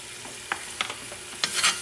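A homemade adobo sazon mix sizzles in a hot pan, with a soft steady fry under several sharp scraping stirs that grow louder toward the end.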